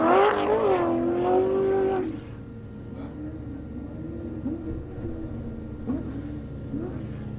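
An off-road race vehicle on a desert qualifying run roars loudly at first with a rising engine whine, then fades to a lower, more distant rumble.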